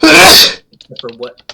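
A loud, sudden sneeze bursts out first, then a person starts talking briefly afterward.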